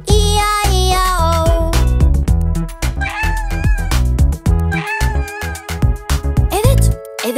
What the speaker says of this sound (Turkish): Burada bir miyav miyav, orada bir miyav miyav